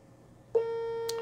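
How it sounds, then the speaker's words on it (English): An iMac G3 emits a loud, sustained electronic error beep at startup, a single steady tone that starts abruptly and holds, with a faint click near the end. "That loud beep again."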